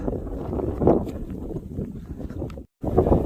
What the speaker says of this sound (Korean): 이게 바람이 세게 불고 안개가 자욱해 있겠습니다